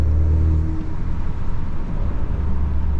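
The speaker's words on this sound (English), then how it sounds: "this exhaust sounds amazing" A 2.0 Honda Accord fitted with a Borla exhaust rumbles with a deep, steady engine drone at close range, a slight rev rising at the start, and no voices over it.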